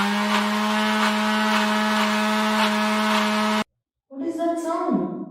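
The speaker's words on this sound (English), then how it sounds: "that's the sound of the mixer grinder" A mixer grinder runs with a steady humming whine and faint rhythmic pulsing, then stops abruptly, followed by a voice speaking.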